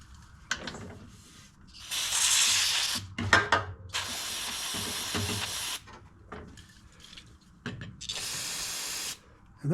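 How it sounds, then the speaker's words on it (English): Cleaner spray hisses in several bursts onto a Craftsman 22-inch push mower's carburetor, long and short blasts separated by pauses, with faint clicks and handling noises between sprays. "Let's grab some spray and spray all that gooky off there."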